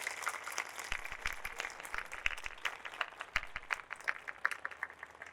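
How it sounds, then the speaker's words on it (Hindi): A congregation at a live village church worship service claps in thanks, a soft, fairly distant patter of many hands that keeps up steadily with no talking. "जोर दे नाल तालियां दे नाल परमेश्वर का धन्यवाद करते हैं"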